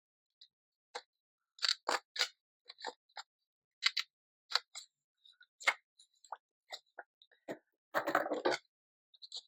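Close, crisp snips of scissors cutting paper, arriving in quick irregular bursts with short gaps, quiet surroundings and no talking.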